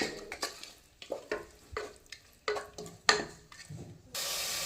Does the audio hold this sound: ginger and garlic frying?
yes